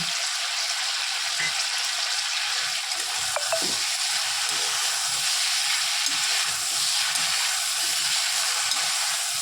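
Green peas go into a kadai of mixed winter vegetables with ginger, cumin, dried chili and coriander, setting off a loud, continuous sizzle with scraping stir strokes and a couple of sharp clinks, steady for the whole stretch.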